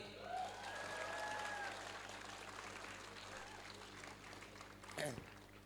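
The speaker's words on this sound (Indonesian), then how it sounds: "Tepuk tangan sekali lagi." Steady applause from a crowd at a school flag ceremony fills the clip, a dense wash of clapping that holds throughout, with a sharp thump near the end.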